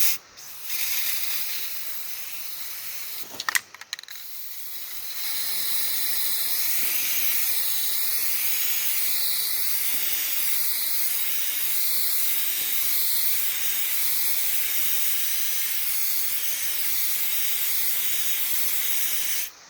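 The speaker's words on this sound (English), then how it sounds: "sending the spray paint in there behind them" A spray paint can hisses onto a shirt in a short burst, then in one long continuous spray with a faint rhythmic rattling pulse running through it, close and steady.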